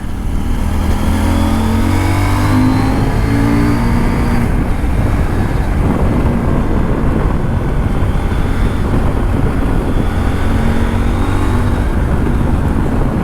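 A CF Moto 800MT motorcycle engine pulls hard under acceleration, its loud rising drone climbing in pitch over several seconds and then repeating, mixed with steady wind and road rush.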